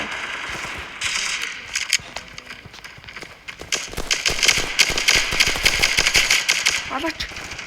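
Gunfire rattles in the mobile shooter Standoff 2, with bursts of rapid automatic shots and single cracks over footsteps and game noise, growing denser toward the end.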